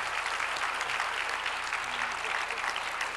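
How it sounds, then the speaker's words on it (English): Conference audience applauding after three speakers are introduced, a steady dense wash of clapping hands filling the room with no break, moderately loud throughout. "Let's give them all a round of applause."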